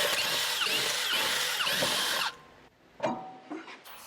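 A pneumatic impact wrench on a 2006 Honda Civic rattles loudly in rapid hammering bursts for about two seconds, then stops, followed by a few sharp metallic clinks and knocks.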